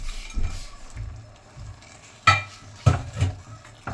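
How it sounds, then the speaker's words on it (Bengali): A spoon scrapes and clinks around a pan of gajar halwa mixed with khoya kheer, fried cashews and raisins, sounding as a few sharp close knocks between softer stirring scrapes. "এটাকে আমরা খুব ভালো করে মিক্স করব।"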